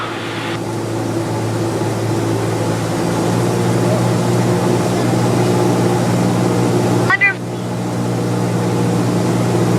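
A small aircraft engine drones steadily from inside the cockpit on a landing approach, a loud constant hum with a brief tone blip and short dip partway through.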